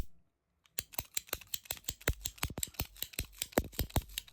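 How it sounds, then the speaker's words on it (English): A Srixon golf ball being cut open, heard as a rapid run of sharp, crisp snips and cracks that start after a brief silence, close and fairly loud, with no talking. "And when we cut this ball open with Jeff"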